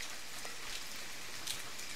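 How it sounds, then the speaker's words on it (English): Steady rain falls in the video game The Forest, a dense even hiss of drops with a few brighter splashes, constant throughout with no voices. "now listen to the rain effect"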